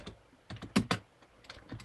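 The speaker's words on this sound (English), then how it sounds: "we're going to type /ngrok" A command is typed on a computer keyboard: a short run of close, crisp key clicks in an uneven rhythm, a couple of strokes louder than the rest, with no speech.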